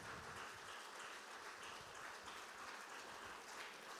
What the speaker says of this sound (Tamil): ஒரு கைத்தட்டு கொடுங்க ஆண்டவருக்காகங்க.